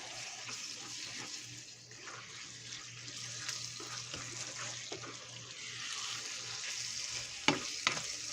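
Seasoned ground meat sizzles in a pan while being stirred, a soft steady fry with faint scraping and a couple of sharper clinks toward the end, quiet and close with no talking.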